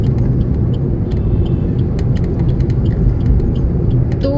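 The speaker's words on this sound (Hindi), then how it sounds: "अब इस ट्रक को हम ओवरटेक कर लेते हैं" A car overtakes a slow truck on a city road, heard from inside the cabin as a steady, loud low engine and road drone with faint rattles and no clear rise or fall.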